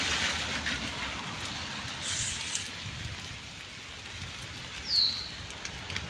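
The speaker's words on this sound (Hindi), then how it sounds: "बारिश बढ़ती जा रही है।" Heavy rain falls steadily over Solan in Himachal Pradesh, a continuous dense hiss across the whole stretch. A brief louder swish comes near the end.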